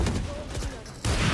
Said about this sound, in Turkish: adam rastgele sıkıyor kafama geliyor ya.